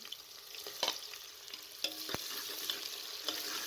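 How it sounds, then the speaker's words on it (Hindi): Onion, cinnamon and black cardamom fry in hot oil inside a pressure cooker, giving a faint, quiet sizzle with a few soft knocks and scrapes of a spoon, heard alone. "इसके अंदर दालचीनी और मोटी इलायची शामिल कर दें, साथ में प्याज को भी डाल दें।"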